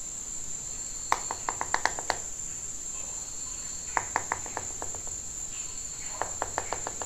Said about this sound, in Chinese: 这个地方一直有那个连续敲的声音